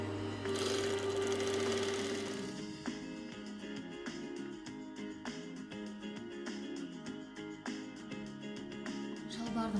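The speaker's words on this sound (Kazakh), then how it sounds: "Енді келесі біз джинсымыздың бүйір жағына лампасымызды қойып тігіп шығамыз." Sewing machine stitching a side stripe onto the leg of jeans, running in a quick steady rhythm with repeated short stops and restarts, close and fairly quiet.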